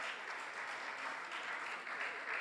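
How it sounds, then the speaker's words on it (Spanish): A church audience applauds together in a steady, continuous clatter of clapping that stays even throughout and is heard from a distance at low level. "Un aplauso al Señor."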